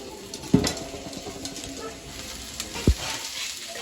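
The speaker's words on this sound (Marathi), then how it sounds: "तर मस्त कांदा भाजून घेते मसाल्यासाठी" Onions fry in a pan for the masala of a soybean curry, giving a steady sizzle while a spoon stirs and scrapes, broken by two sharp knocks of metal against the pan.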